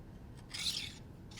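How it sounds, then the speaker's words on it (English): Camera rails slide through the rail clamp of a Canon C100 rig, a brief, quiet metallic scrape peaking midway, with soft rubbing before and after. "We should be able to slide our rails through."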